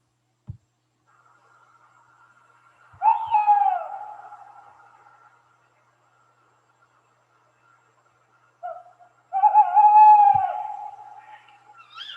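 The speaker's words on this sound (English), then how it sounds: "That was one owl calling and the other answering." Two owls trade calls in quiet countryside, one wavering hoot followed after a long silence by a louder, answering call, both clear against near silence.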